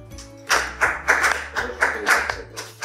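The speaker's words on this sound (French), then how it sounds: "Applaudissements." A small group claps after a take on a film set, several quick bursts of close clapping in an uneven rhythm, fairly loud, with no talking over it.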